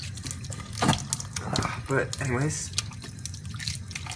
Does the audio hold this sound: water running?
yes